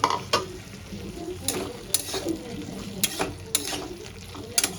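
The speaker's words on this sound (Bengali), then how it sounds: "এবার আমি ভেজে রাখা আলুটা দিয়ে ভালো করে একটু কষিয়ে নেব।" A spatula stirs fried potatoes into sizzling spice masala for a tengra fish curry with potato and tomato, giving soft sizzling under sharp scraping strokes that come every second or so, fairly close.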